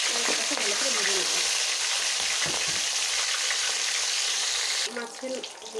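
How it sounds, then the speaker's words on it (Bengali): Hilsa fish heads fry in a pan with a steady, loud, dense sizzle that runs without a break, easing slightly near the end, with faint scraping now and then. "একটু ভালো করে ভেজে নিয়ে মাথাগুলোকে উঠিয়ে নেব।"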